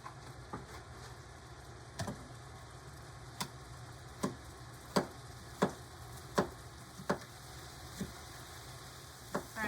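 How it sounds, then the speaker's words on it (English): A knife chops through one large pepper on a cutting board, sparse distinct taps spaced unevenly, faint and close over a low steady hum. "I'm gonna go ahead and chop up a pepper, 1 large pepper"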